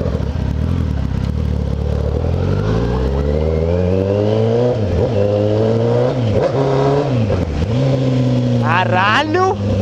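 A Kawasaki ZX10R sport bike with a straight-through aftermarket exhaust revs hard and close, its loud rising and falling engine tone climbing repeatedly through several surges and drops, ending in a burst of high crackling.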